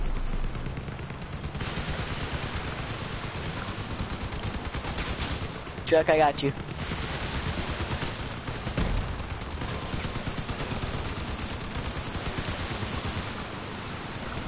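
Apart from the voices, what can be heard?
gunfire in Crossout video game battle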